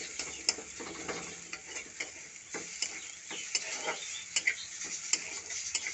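Jackfruit pieces coated in salt and turmeric sizzle steadily in a little oil, with soft ticking crackles and occasional stirring clicks close by and no voices.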